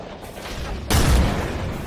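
Grenade blast in Apex Legends: after a quiet stretch, a sudden loud, deep boom hits about halfway through and trails off into a rumbling decay, with no speech.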